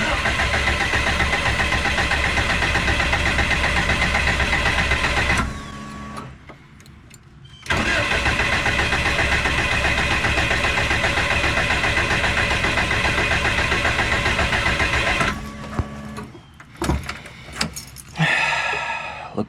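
A car engine cranks hard after being rewired but never catches: two long, loud, continuous cranking bursts split by a short pause, then scattered clunks and quieter mechanical noises as it falls still.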